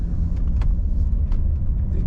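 A 1989 Mercedes-Benz 560SEL with 126-series body cruising on the open road, a low steady engine and road rumble with faint tyre and wind noise, no voices.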